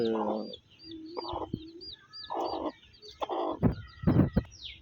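Young chicks of a pure black fighting rooster breed peep in high, rapid chirps near the mother hen, with lower clucks and coos breaking in between, close and fairly quiet.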